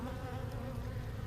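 Dense, steady buzzing of many honey bees comes from an open hive during routine hive work, close and continuous with no talk.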